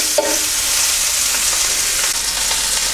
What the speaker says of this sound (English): So we just coat the mushrooms on both sides and just leave those to fry on a medium heat.